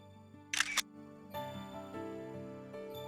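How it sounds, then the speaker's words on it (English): A camera shutter clicks once, a sharp double snap in a visual novel video game, standing briefly above soft, sustained background music that carries on afterward. "The shutter clicked, dominating the noise soundscape for just this moment."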